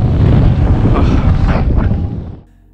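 Strong wind blows in a loud, continuous roar across the microphone during a paraglider launch, buffeting steadily before cutting off abruptly near the end.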